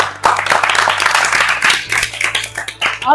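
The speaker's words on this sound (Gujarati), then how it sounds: "તાળીઓ." A short burst of hand clapping from a small group, dense and lively for about three seconds before tapering.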